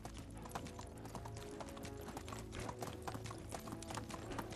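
Horse hooves clip-clop steadily in Medieval Dynasty as a rider heads home, a dense, continuous clatter over a constant bed of background ambience.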